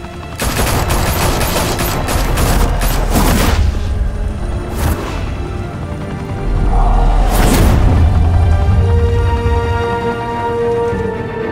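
Gunfire from the Batman: The Telltale Series video game: a dense, loud fusillade of rapid shots and booms in two heavy bursts with a brief lull between, no speech over it.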